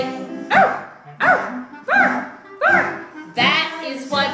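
A voice imitates a dog barking in a children's sing-along song, giving five bouncy woof-like yelps in an even rhythm, close and clear, alone without accompaniment.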